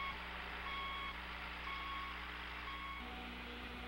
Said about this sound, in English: maintaining gravel road surfaces with a motor grader